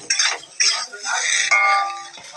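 A spoon stirs and scrapes cauliflower in a metal cooking pot, giving repeated close, loud clinks and scraping strokes in a short burst with no talking.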